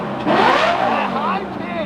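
A supercar's high-revving exhaust fitted with a catalytic converter, sounding crisp and loud as revs climb and hold, a sharp rising whine sweeping through the clip with a sustained tone underneath.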